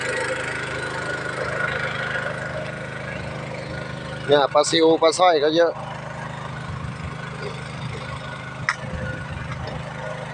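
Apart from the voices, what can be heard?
small engine running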